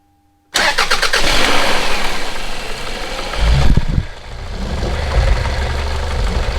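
A vehicle engine cranks and catches, then runs at a loud, steady idle close by. There is a brief revving surge partway through and no talking.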